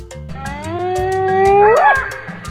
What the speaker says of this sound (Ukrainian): Гієна.